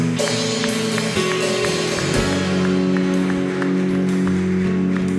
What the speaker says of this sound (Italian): Tu puoi fare un applauso al nostro Signore Gesù?